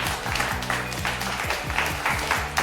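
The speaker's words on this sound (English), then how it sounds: "A round of applause." Audience applause at a golf pro-am tournament prize presentation in Hyderabad, steady dense clapping throughout with a low musical tone running beneath it.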